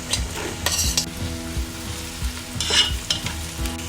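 Garlic, capsicum and carrot stir-fry over a high flame, a bright close sizzle broken by repeated rhythmic scrapes and knocks of a spatula against the pan, loud and steady.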